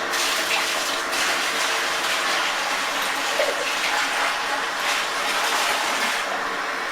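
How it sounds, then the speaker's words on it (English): Hot water pours steadily from a kettle into an emptied Coopers IPA malt extract tin during home brewing, a continuous close gushing and splashing with no talk. "I'm just going to add the hot water now to this."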